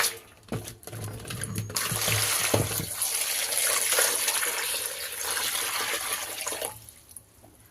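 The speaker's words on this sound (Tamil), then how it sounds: "குக்கரில் தேவையான தண்ணி ஊற்றிக்கிட்டு" Water poured into a pressure cooker while cooking a corn masala fry, a steady splashing gush running for several seconds after a few knocks, close and fairly loud before tapering off at the end.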